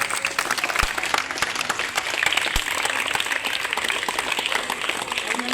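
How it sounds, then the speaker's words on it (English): Children in a school audience at a science fair give a big round of applause, a continuous, even patter of many hands heard from a moderate distance with faint background voices. "Children, give them a big round of applause."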